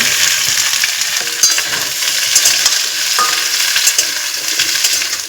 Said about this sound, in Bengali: আমি পুঁই শাকের ডাঁটাগুলো দিয়ে দিলাম দিয়ে ভেজে নেব